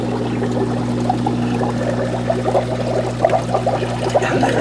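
Water percolating and trickling through a small aquarium filtration unit fitted with LED lights and algae-growing strings, a steady close bubbling dribble over a constant low electrical hum, with no voices.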